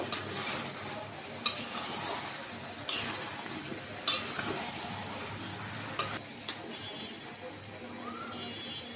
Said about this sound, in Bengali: পনিরটাকে এখন ভালো করে কষিয়ে নিব